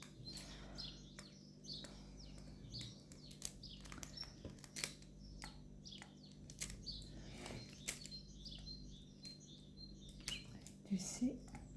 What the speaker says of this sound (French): Vous entendez les oiseaux dehors?